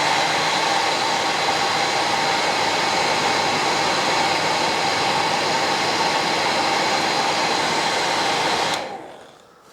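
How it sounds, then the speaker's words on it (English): Hairdryer blowing steadily through fly-tying materials for a Mustard Green Drake Emerger, a loud, constant whooshing hum that runs alone for about nine seconds before it is switched off and winds down. "Now I'm going to blow the hairdryer through it just to kind of tidy it up."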